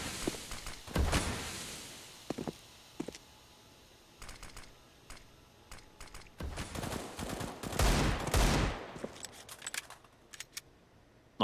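Gunfire in a Counter-Strike match on the Vertigo map, with scattered single shots and several dense bursts of rapid fire, loud and up close, with short quiet gaps in between.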